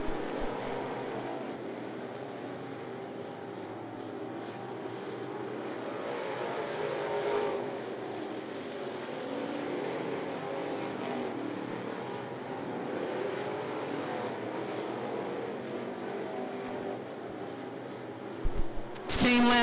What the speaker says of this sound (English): Darren Goins to the bottom of the track as they go down the back straightaway.